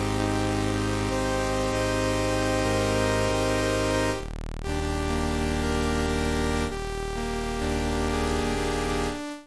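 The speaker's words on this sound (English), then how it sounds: "for the sub oscillator, we have a saw wave because we wanted that crunchy sound coming through" Serum synthesizer chords built with a saw wave sub oscillator, giving a loud, dense, crunchy digital buzz; sustained harmonic chords change a few times with brief dips between them.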